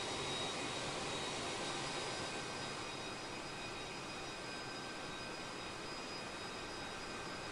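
Airbus A321neo jet engines in Microsoft Flight Simulator give a steady, dense broadband roar with a faint high whine, holding constant and loud throughout with no talking.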